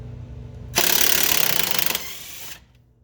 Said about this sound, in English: I'll go at it with the impact.